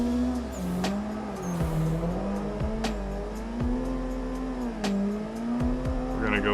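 A sim racing car in a drifting video game screams at full throttle, its engine note holding high and wavering with quick shift dips and tire squeal, loud and close throughout with someone talking over it.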